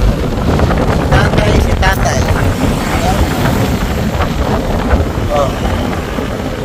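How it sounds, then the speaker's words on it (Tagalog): Heavy wind buffets the microphone throughout, a loud constant low rumble, with someone speaking briefly over it. "Ang lakas ng hangin dito."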